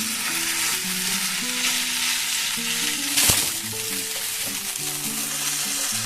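Vegetables for chowmein fry steadily in a hot pan, a continuous close sizzle throughout with a brief sharp clatter midway, while soft background music plays underneath.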